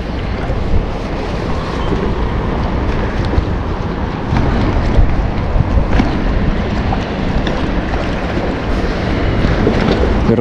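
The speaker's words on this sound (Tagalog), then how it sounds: "Medyo mahangin ngayon." Strong wind buffets the microphone outdoors by the water, a steady loud roar with gusty rumbling and no speech.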